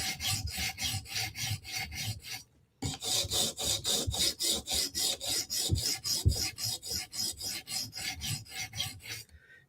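A Spyderco knife edge is drawn repeatedly across a sharpening stone, a steady rhythmic rasping of close, even strokes with one brief pause near the start, no voices.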